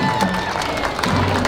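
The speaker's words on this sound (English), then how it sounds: "Big round of applause for these girls for promoting us" A loud parade crowd at the 2022 Apple Festival Grand Parade claps and cheers for the festival queens and attendants, with a continuous roar of applause mixed with voices and shouts.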